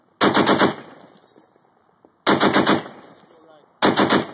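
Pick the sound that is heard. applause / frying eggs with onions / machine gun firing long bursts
machine gun firing long bursts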